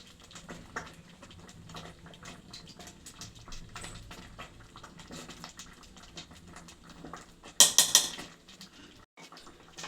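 Spoon stirring khara pongal in a cooking pot, with steady soft scraping and clinks running throughout and a brighter burst of metallic clatter near the end before a short pause.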